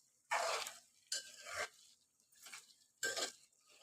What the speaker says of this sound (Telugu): ఇప్పుడు ఆలుగడ్డలు చూడండి ఇట్లా మంచిగా ఆయిల్లో అయితే ఫ్రై అవుతున్నాయి కదా. ఇప్పుడు ఒకసారి మనము కలుపుకుందాము.